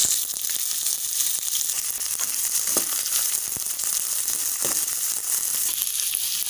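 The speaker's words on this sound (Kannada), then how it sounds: "ಈಗ ಕಟ್ ಮಾಡಿಟ್ಟಂಥ ಈರುಳ್ಳಿಯನ್ನು ಹಾಕುವ" Chopped onions frying in a hot pan with ginger and garlic, giving a steady, dense sizzle throughout with a few faint stirring clicks and no talking.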